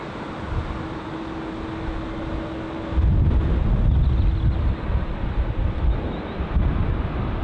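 Wind buffets a microphone outdoors at Heathrow Airport, a steady rushing hiss that swells into heavier low rumbling gusts partway through, with no voices.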